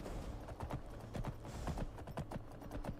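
Horse hooves clip-clop in a steady, quick rhythm as a mount gallops in a video game, the hoofbeats close and fairly loud over a low background rumble throughout.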